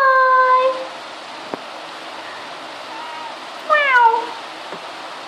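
A cat meowing twice, two clear, fairly loud calls separated by a few seconds of quiet background hiss, the second meow rising and falling in pitch.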